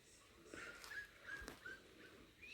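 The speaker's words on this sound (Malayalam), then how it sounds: "പട്ടിക്കുട്ടിയാണ്" A puppy whimpers in a few short, high, thin whines spaced across the moment, fairly faint against a light background hiss.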